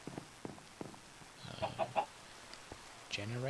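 Chickens in Minecraft cluck in short, close bursts, a few quick clucks followed by a longer squawk near the end, over a quiet background.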